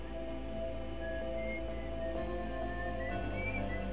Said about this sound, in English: Use your signal scope for the whistling.